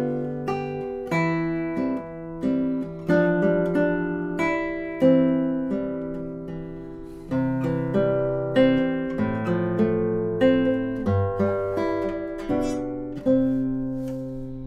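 Solo classical guitar plays Sagreras Lesson 56 from measure 9 to the end, a clear, close melody of plucked notes over bass, phrased in short groups with small breaths between them.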